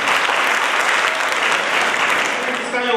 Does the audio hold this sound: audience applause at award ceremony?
yes